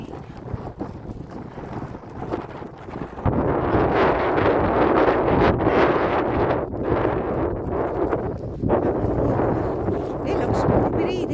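Strong cold wind buffeting the microphone while someone walks outdoors in sunshine, a loud steady rumbling gusty roar that rises after a few seconds and persists, with talking underneath.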